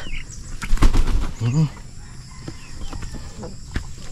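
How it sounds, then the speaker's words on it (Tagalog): Farmyard chickens flap their wings in a short loud burst, followed by a few clucks and scattered faint scratching and movement close by. "Aming mga manok."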